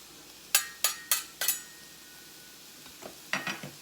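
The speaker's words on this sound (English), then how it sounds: "we're going to caramelize these onions" A metal spatula clacks sharply four times on a Blackstone griddle while onions and peppers cook, then three more quick scrapes and taps follow, with a faint steady sizzle underneath.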